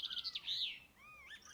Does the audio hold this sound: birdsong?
yes